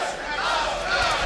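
A boxing arena crowd in the Tszyu vs Lopez fight keeps up a loud, continuous chant for the fighter Lopez, with massed voices blending into a steady roar.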